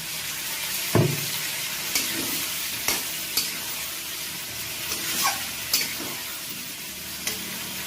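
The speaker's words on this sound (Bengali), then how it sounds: "এবার আমি মশলার পেস্টটা দিয়ে দিলাম।" Spice paste frying with peas in a pan: a steady, close sizzle punctuated by about eight sharp spatula scrapes and knocks at irregular intervals, with no voices.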